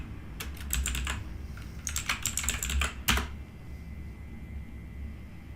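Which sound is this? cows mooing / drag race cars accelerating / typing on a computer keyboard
typing on a computer keyboard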